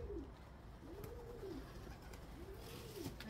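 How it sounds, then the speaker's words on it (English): Pigeons in a loft give soft, repeated rolling coos, two or three in a row over a quiet background hum, with faint wing and movement sounds between the calls. "So now, all the birds are trying to fly around."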